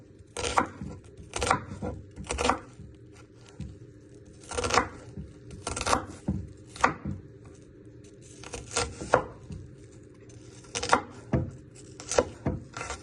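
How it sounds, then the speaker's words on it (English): A knife chops an onion on a cutting board with a string of sharp, close knocks, some single and some in quick pairs, set apart by short pauses, with no talking. "Then you finally slice it, not all the way through."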